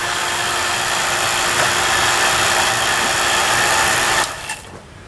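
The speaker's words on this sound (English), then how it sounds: "We're going to shut the pump off." A vacuum pump runs on a high-velocity Unico air conditioning system during installation, a loud steady mechanical drone close by that cuts off near the end and winds down.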